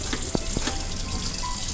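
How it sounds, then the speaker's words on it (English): Hands washed with soap and water at a school sink: a steady rush of running tap water with a few faint splashes, close and continuous, with no voices. "Remember to wash your hands with soap and water"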